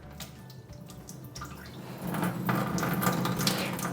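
Rice is rinsed in a bowl of water and the excess water poured off, starting with light drips and splashes and then swelling into a louder, sustained pour.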